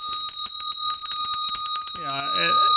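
A bell struck harshly over and over in quick, uneven hits, its bright ringing tones piling up; a voice breaks in near the end.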